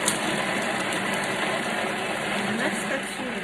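A Thermomix food processor blends two garlic cloves at speed 5 for a few seconds with the lid and measuring cup in place, giving a steady, loud motor whir that holds even throughout.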